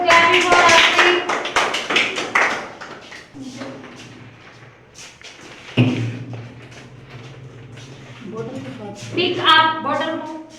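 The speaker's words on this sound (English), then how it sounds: "clapping for Hर्षित" Children in a classroom clap for a classmate in brief bursts of quick claps that come and go, mixed with a teacher's speech and children's voices.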